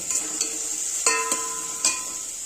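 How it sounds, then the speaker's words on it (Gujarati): Vegetables for manchow soup stir-fried in a hot pan, a soft steady sizzle with a few sharp scraping clicks of a spatula against the pan, close and alone. "બધી જ વસ્તુ વેજીટેબલ 15 થી 20 સેકન્ડ માટે જ સાતરવાના છે।"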